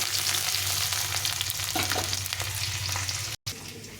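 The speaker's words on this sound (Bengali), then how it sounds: "এখানে এই তেলে আমি একটু ক্যাপসিকামগুলো একটু হালকা করে একটু ভেজে নেব। একটু নেড়ে চেড়ে" Capsicum pieces frying lightly in hot oil for a shahi paneer dish, a loud continuous sizzle close by with scraping stirs breaking through, cut by a brief drop to silence near the end.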